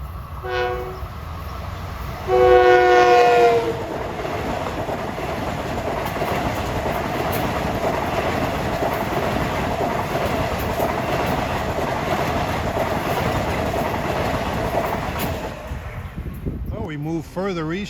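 A Long Island Rail Road train on the Ronkonkoma Line passes the Merritt Road grade crossing, sounding a loud horn blast at the start, then a long steady rumble and rail clatter as it rolls by close up, with a brief voice near the end.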